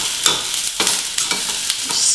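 White sesame seeds being stirred in a hot pan, giving a steady dry sizzle broken by repeated scraping strokes of a spatula, close and moderately loud, with no voices.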